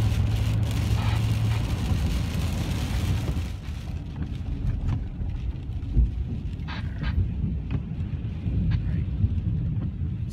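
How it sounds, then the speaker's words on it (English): A strong derecho wind storm in eastern Iowa roars as a loud, continuous broadband rush, with faint thuds and rattles scattered through it and no speech. "Too much wind."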